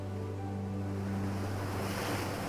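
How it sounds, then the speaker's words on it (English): North Atlantic waves crash against a rocky Newfoundland shore in a steady, loud roar of surf, with wind noise and a low droning hum underneath; no voices. "watching the relentless waves of the North Atlantic crash against Newfoundland's rocky shores"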